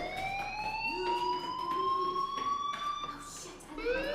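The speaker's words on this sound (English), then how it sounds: "Hey, do you hear that fire alarm?" A fire alarm rings inside the video game Life is Strange as a fairly quiet electronic wail, its tones sweeping upward over and over in a steady repeating cycle, with faint sounds around it.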